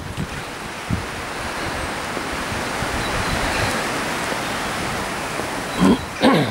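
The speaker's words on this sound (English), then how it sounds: "Really windy today, in parts anyway" Strong wind rushes through trees on hospital grounds in North Wales, a steady, dense roar throughout with a couple of brief bumps near the end.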